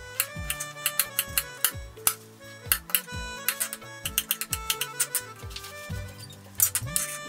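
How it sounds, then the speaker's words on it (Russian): A knife taps rapidly and unevenly against a cutting board while two garlic cloves are finely chopped, with crisp close clicks over a soft tonal background. "Мелко нарезаю 2 зубчика чеснока."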